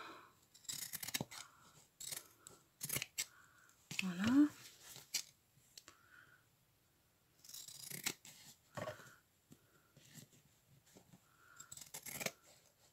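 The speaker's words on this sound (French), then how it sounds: "Là, on va prendre les ciseaux tissu parce que." Fabric scissors cut through cloth in several short, crisp snipping bursts separated by pauses, close up, with someone speaking in between the cuts.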